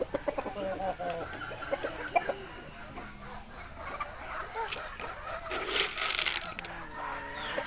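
Chickens being fed on a farm cluck and squawk close by in repeated bursts, with a dog and other birds audible in the background and faint voices now and then.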